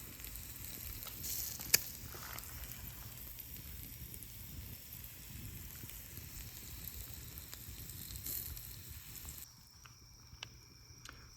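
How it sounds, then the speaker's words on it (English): Faint steady sizzling and crackling of food on a small charcoal camp grill, a soft hissing patter that runs on evenly, then drops away near the end. "But we finally have some sizzle."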